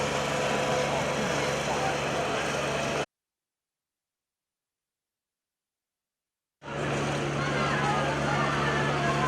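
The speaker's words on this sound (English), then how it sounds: "as the tractor cruises past" A tractor runs past at a football ground during a senior grand final, its steady engine drone loud and close. It cuts out completely for a few seconds, then returns just as strong.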